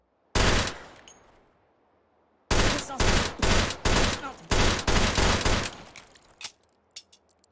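Gunfire in the VR game Hot Dogs, Horseshoes & Hand Grenades: a single loud shot, a pause, then a rapid string of close, sharp gunshots, some in quick bursts, fading to scattered clicks.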